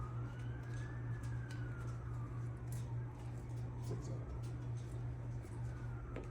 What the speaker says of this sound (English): Also the sirens.